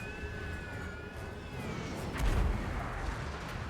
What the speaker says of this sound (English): Yeah, mortars.